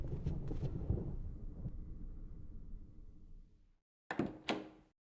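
Door in the Resident Evil Remake game, a long low rumbling creak fading out, then after a brief silence two sharp clunking latch knocks close together.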